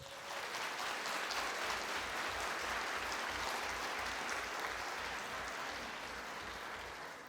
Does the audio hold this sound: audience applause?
yes